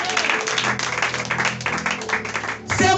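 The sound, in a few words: congregation applauding the Lord in a church service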